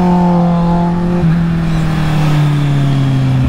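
A Kawasaki Z800 or Yamaha R6 motorcycle accelerates hard, its engine note loud and close, a steady rising roar with a brief dip as the gear changes midway.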